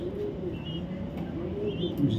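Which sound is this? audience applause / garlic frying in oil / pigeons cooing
pigeons cooing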